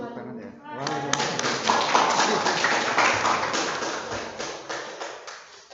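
A room full of people breaks into applause after a brief spoken line, the clapping swelling quickly and then tapering off over several seconds.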